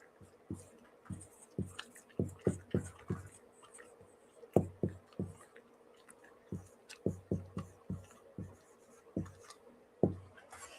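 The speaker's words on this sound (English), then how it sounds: "I want to write this up here." Marker strokes on a board in a presentation room, a series of quiet, short tapping and scratching strokes in irregular clusters with pauses between words.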